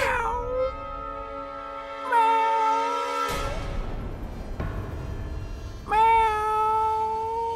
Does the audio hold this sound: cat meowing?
yes